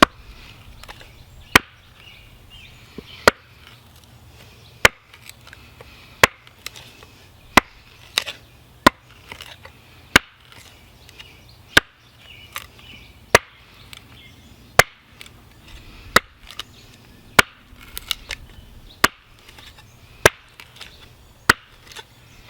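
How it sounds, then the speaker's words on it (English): A survival knife, the GSO 7.7, strikes wood tip-first in a long series of sharp, isolated chops. The blows are close and loud, spaced roughly a second or two apart, over faint background noise. "Let me test the tip of the blade for you guys to see how resisting it is."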